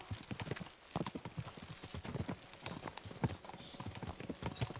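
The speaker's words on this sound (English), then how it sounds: "We should spur the horses on." Horses' hooves clip-clop in a video game, a quick, uneven rhythm of close, crisp hoofbeats from more than one animal trotting together, steady through the whole stretch with no talking.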